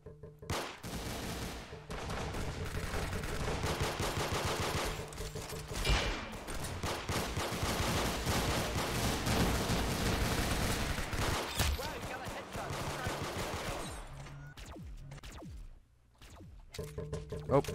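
Gunfire in the Roblox game Arsenal: dense, sustained bursts of shots with game music and effects underneath, ending with a brief pause and a few more shots.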